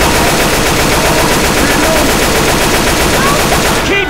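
Rapid, continuous gunfire in Left 4 Dead 2 on Realism Expert difficulty, loud and close, with no break across the whole stretch and a brief shout mixed in near the end.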